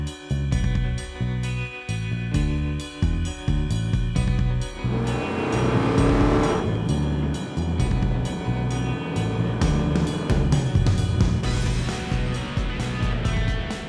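Dodge Challenger R/T with a sunroof driving on a sunny day, engine rumble pulsing through gear changes, then a steadier rushing cruise with road and wind noise, fairly loud throughout.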